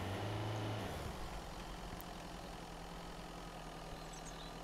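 A vehicle engine idles in the Mist Survival survival game, a faint low steady hum that drops slightly in pitch after the first second and then runs on evenly.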